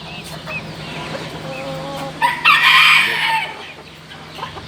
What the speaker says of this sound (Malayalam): ഇത് സിൽക്കി കോഴികളാണ്